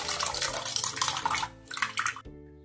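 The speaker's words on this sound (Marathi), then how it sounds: "आता या छेन्यातलं हाताच्या प्रेशरने पाणी काढून घेऊ।" Water wrung by hand out of freshly made chhena for kalakand streams and splashes steadily into a vessel, loud and close, then stops abruptly near the end.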